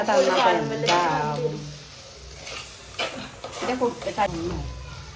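Onions frying and being stirred in a pan for a chicken curry, a steady sizzle with scraping spoon strokes, close and fairly loud, briefly under someone talking.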